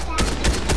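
Video game gunfire comes as three sharp, close shots in quick, uneven succession within under a second over a low background rumble.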